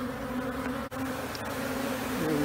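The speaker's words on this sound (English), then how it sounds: "we're gonna take these bees in the swarm trap and we're gonna shake them out into this new box" A honeybee swarm buzzes steadily and close as it is shaken from a swarm trap into a new hive box, with one brief bump cutting through the drone.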